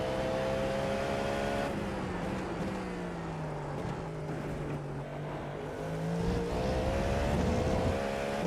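A GTP prototype race car in iRacing runs at full speed through a chicane at Imola, a steady engine drone whose pitch drops under braking and then climbs again, loud and continuous.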